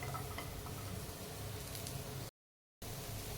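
Finely chopped onions frying in oil in a pan for a gravy masala, giving a steady, close, moderately loud sizzle with light stirring texture, interrupted by a brief silent gap.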